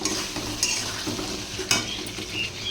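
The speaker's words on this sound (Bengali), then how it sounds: "মশলা কষা হচ্ছে।" Spice paste is stir-fried in a pan for a Bengali fish curry with potato, pointed gourd and lentil dumplings, giving a continuous sizzle broken by a few quick scraping strokes of a spatula. No voices are heard.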